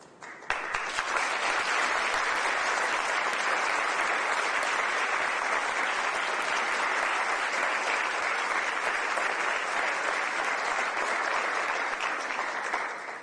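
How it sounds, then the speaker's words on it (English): Sustained, loud applause from a large audience at a women's award ceremony, continuous and even for the whole stretch, with no talking over it. "Please, another round of applause."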